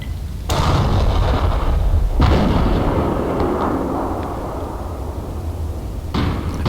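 Loud booming tank cannon fire from the World of Tanks game, heavy blasts at the start, around two seconds and again near six seconds, each trailing into a long rumbling roar with no one talking.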